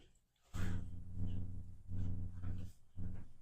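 A dog indoors gives a series of low, rough growly vocalizations, several loud bursts in close succession near the microphone.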